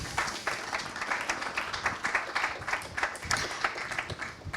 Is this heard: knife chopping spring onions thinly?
no